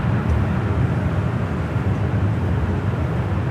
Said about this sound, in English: The Dreamliner heading back to Toronto, Flight 786. Rolling down at 25 right there on the south side.